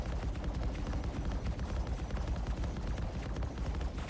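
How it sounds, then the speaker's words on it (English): Ship turrets firing in Star Citizen, rapid sustained automatic gunfire with a loud, continuous rattling roar and no pauses. "A bit much camera shake with the turrets."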